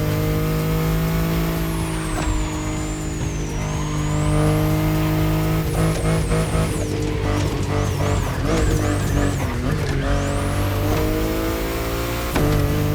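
BMW i8 engine in The Crew Motorfest revving steadily, a loud sustained drone with pitch rising and falling through several throttle swells and gear changes.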